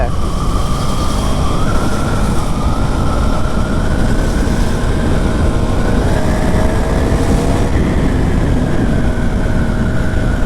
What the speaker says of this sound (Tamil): லாரி தான் போயிட்டு இருக்கு.